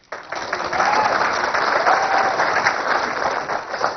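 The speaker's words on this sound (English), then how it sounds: "you can applaud for that." Steady applause from a live audience at a seminar-style talk on real estate investing fills the room after a brief silent start, dense and sustained throughout with no speech over it.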